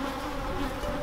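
Swarm of bees buzzing steadily around a hive, a dense continuous drone close by with no pauses.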